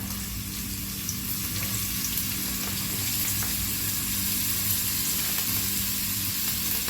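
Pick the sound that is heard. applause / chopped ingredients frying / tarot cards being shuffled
chopped ingredients frying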